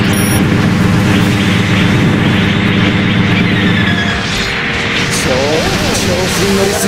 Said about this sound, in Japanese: 大爆発だ。